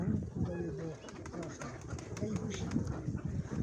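Soft cooing from a pigeon in a pigeon fancier's flock repeats through steady outdoor background noise, with people talking faintly nearby.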